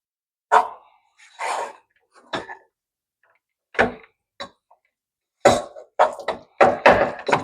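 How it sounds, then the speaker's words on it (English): A small pug barks in short, sharp bursts, a few scattered yaps early on, then a quick run of several barks near the end, loud and close with silence between. "Little pug in the background can be noisy at times"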